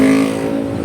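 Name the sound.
cars slowing down in road traffic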